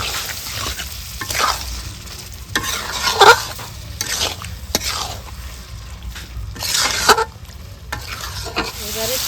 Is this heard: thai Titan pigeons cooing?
no